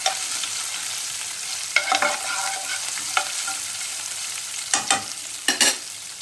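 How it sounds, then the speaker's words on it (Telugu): Ginger, green chillies and a dried red chilli fry lightly in oil in a pan, a soft steady sizzle broken by several scraping stirs of a spatula, close up with no talk. "అల్లము, పచ్చిమిరపకాయలు, ఒక ఎండుమిరపకాయ ఫ్రై చేసుకోవాలి."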